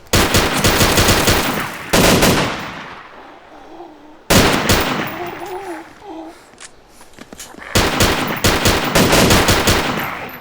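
Rapid automatic Uzi fire in a DayZ gunfight, several long, loud bursts of sharp shots with short gaps between them, and a voice speaking in the pauses.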